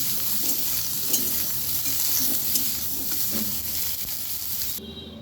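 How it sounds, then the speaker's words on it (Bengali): Cauliflower florets frying in hot oil, a dense continuous sizzle and hiss up close with faint stirring scrapes, cutting off abruptly near the end. "ফুলকপিগুলো আমার ভাজা হয়ে গেল, আমি এবার তুলে নিচ্ছি।"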